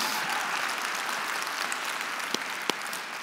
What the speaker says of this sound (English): You can clap it up for that, by the way.